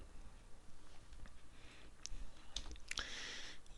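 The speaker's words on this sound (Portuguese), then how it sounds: "vou clicar 2 vezes aqui, vou clicar 2 vezes aqui também" Light clicks of a computer mouse while working in SolidWorks, a few faint, quick ticks scattered over a low background hiss.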